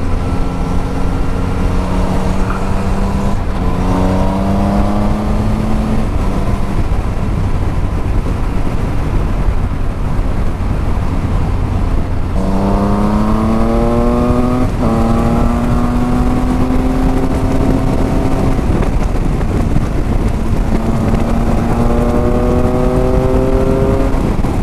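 Car driving along an asphalt road, a steady loud engine drone with rising and falling gear pitch as it accelerates and shifts, continuous throughout.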